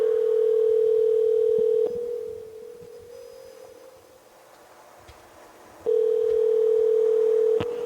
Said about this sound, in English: I don't know what's going on with this phone just ringing forever.